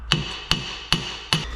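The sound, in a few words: hammer striking brake disc to free it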